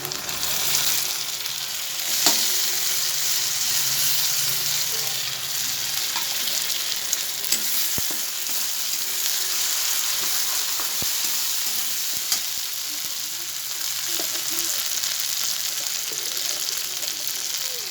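A ground spice paste fries with tomato and onion for an egg curry, giving a strong, continuous sizzle and crackle near the pan, with occasional stirring scrapes and little other sound.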